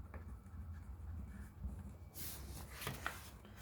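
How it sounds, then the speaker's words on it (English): Pen writing by hand on paper while entering an insurance expense in an accounting ledger, a close, soft scratching that turns brighter and busier in its second half, with no talking. "so I'll just write insurance"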